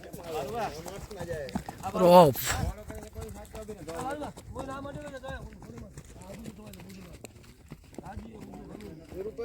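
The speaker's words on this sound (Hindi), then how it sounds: "अभी देख सकते हो आप, काफ़ी घोड़े आए हैं इधर।" Horses trot during a village horse race, their hooves clip-clopping in a rhythmic patter beneath almost continuous talk, with one louder burst of commotion.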